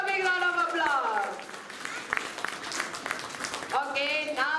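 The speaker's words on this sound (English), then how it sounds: "Please give them a big round of applause." An audience claps for school children performing at a school event in Bangalore, a scattered burst of applause between stretches of children's voices singing and speaking.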